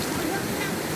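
A waterfall roars as a constant, full-bodied rush of falling water close by, with voices faintly mixed into the noise.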